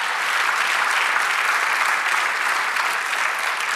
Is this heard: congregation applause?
yes